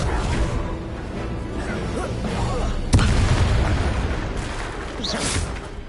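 A Confringo explosion spell in the video game Hogwarts Legacy, a heavy boom over dense battle noise with a sharp burst midway and shouted voices.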